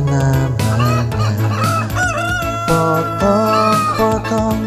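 A rooster crows in repeated loud calls set within a bright children's song about a cockerel, with musical accompaniment running underneath throughout.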